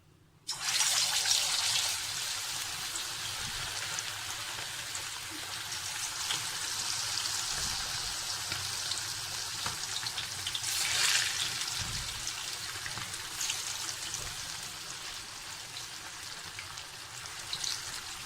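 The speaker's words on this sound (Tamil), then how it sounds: "இப்போ நம்ம சிக்கன் பொரிக்க போகிறோம்" A sudden burst of loud sizzling as chicken hits hot oil, then a steady crackling fry that swells and fades slightly, with no talking.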